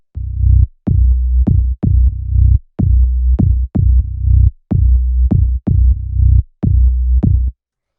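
A punchy synth bass line plays alone in a repeating, syncopated rhythm, each note starting with a sharp attack and decaying into a low, sustained tone.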